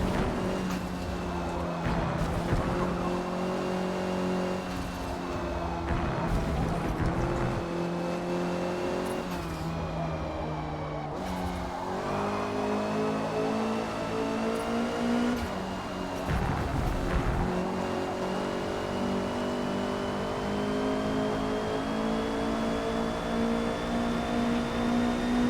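The Honda #73 Civic race car in Forza Motorsport laps Suzuka, its engine droning steadily near and loud with shifting pitch through gear changes, occasional tire squeal, and brief lifts and re-accelerations.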